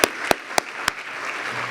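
An audience at a lecture claps, a dense patter of applause with a few sharp louder claps standing out, steady and fairly close for under two seconds.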